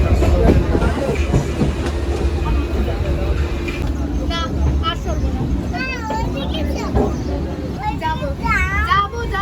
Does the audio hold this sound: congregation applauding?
no